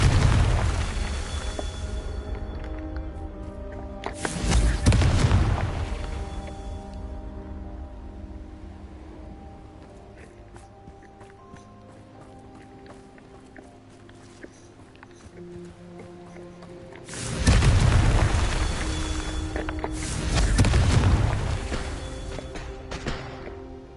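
Confringo explosion spells going off in a Harry Potter video game, two clusters of deep booming blasts, each pair a few seconds apart, with quieter game ambience between them.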